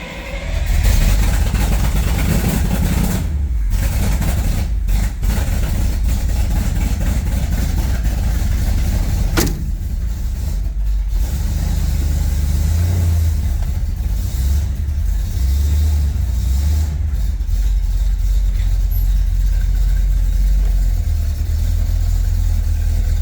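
A 1972 Corvette engine, running again after a starter repair, idles loudly and close up, then revs a few times in brief surges before settling back to a steady rumble.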